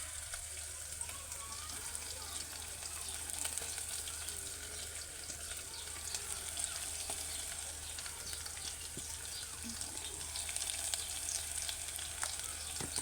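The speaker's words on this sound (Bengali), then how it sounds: "একটু মশলাটা কষিয়ে নিই" Spice paste with coconut paste and salt frying in a pan for a fish curry with kohi, a steady soft sizzle running throughout at moderate loudness, with faint occasional clinks and no talk.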